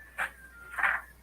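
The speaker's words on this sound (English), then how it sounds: "puppies want somebody to play with them." Puppies whimper in two short, soft, high-pitched whines close by, separated by a brief quiet pause.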